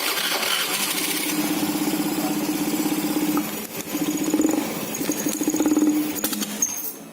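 Motorcycle engine running during a fuel system check, a steady buzzing idle with slight rises and dips and a few sharp ticks near the end, heard close up without talk.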